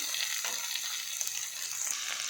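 Ginger garlic paste fries with chicken in a pan, giving a steady, close hiss of sizzling oil with light stirring scrapes throughout and no voices.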